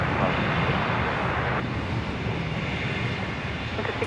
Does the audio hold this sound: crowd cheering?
no